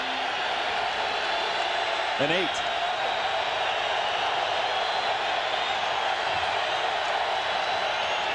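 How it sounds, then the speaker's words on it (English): Stadium crowd at a San Diego Chargers home game against the Buffalo Bills, fans on their feet waving towels on third down, a steady dense roar throughout with a play-by-play voice talking over it. "this crowd on their feet waving the crazy towels on 3rd down"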